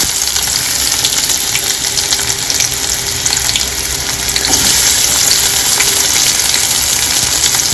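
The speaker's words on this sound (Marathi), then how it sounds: "लसणाला हलकंसं झालं की आता याच्यात कांदा सोडायची आहे." Chopped onion goes into garlic frying in oil in a pan for lakhori sabzi, giving a loud, steady sizzle that holds throughout with no talking.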